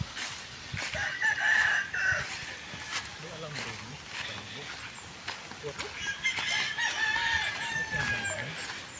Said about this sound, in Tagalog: Yung kanilang mga cockerels, ito yung range nila.